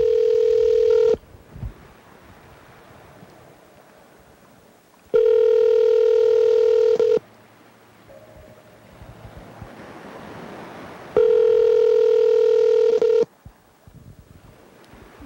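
Telephone ringback tones sound three times in long steady bursts about two seconds each, separated by quiet gaps, as a late-night call goes unanswered before reaching voicemail.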